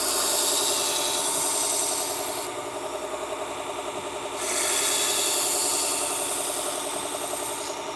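Knife sharpening against a 120 grit wheel, a steady grinding hiss with a mechanical hum, easing slightly for a couple of seconds in the middle before returning to full strength, with no voices.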